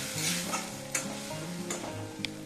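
Fried potatoes going into oily, frying masala in a pan for a rohu fish curry with cauliflower and bori: a low continuous sizzle with a few sharp spoon scrapes and taps, quiet overall.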